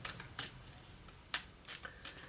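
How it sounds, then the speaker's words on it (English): Angel oracle cards being shuffled by hand for a reading, a few quick riffling bursts spaced apart with quiet gaps between them. "So I'm going to pull a couple of cards from this."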